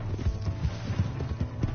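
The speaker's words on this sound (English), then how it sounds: "Hey, that's my horse!" Horse hooves clip-clopping in the video game Red Dead Redemption 2, a regular trotting rhythm of several hoof beats, moderately loud and close, with faint background game sound.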